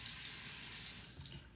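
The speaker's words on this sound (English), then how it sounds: "I'm going to start by running a little bit of water" Water runs steadily from a sink faucet into the basin, a continuous broadband hiss and splash that tapers slightly near the end, with no voices.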